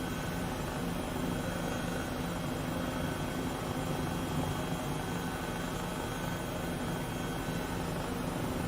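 An H135 helicopter in flight sim cruising outside San Francisco, a steady broadband rotor and turbine drone that stays even and close throughout with no breaks.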